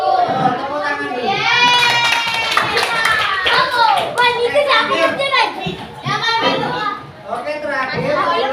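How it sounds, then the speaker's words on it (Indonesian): Students in a classroom applaud together, a burst of hand clapping mixed with children's chatter and voices, fairly close and lively throughout. "Tepuk tangan dulu."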